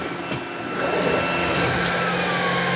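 A Shark PowerPro Flex Reveal cordless vacuum cleaner on hardwood floor whirs steadily, then ramps up to a louder, higher whine as it switches to maximum suction, running close and alone.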